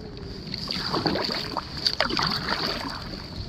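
A kayak paddling through Udupi backwaters, with soft paddle strokes dipping and splashing in the water at an unhurried rhythm, close and fairly quiet, with light wind across the microphone.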